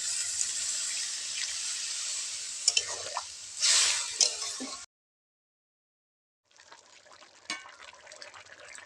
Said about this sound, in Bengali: দিয়ে দেব সামান্য একটু জল, দিয়ে দেব জল, পরিমাণ মতো জল দেব